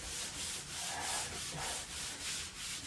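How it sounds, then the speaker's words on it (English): A wet sponge wipes sanding dust off a repaired drywall patch with steady, soft rubbing strokes that rise and fall in a regular back-and-forth rhythm, close and quiet. "I have a wet sponge here, and we'll just sponge this off"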